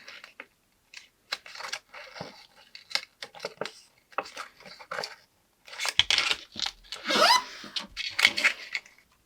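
Scissors cut a small paper mini candy multipack box, giving close, quiet, irregular bursts of crisp snipping and paper crunching separated by short pauses.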